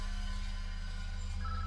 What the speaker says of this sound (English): my phone started ringing